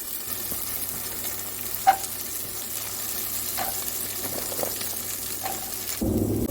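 Chillies, green peas, carrot and beans frying in oil in a pan, with a continuous sizzle broken by a few clinks and stirring knocks and a louder scrape near the end.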